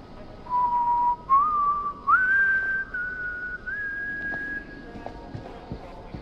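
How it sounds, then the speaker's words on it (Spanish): A video game character whistles a tune in House of Ashes, clear rising whistled notes in short phrases, the first few broken by pauses and then held longer, fairly close over a quiet background. "he visto que silba"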